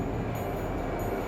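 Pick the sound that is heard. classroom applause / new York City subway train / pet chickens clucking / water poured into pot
new York City subway train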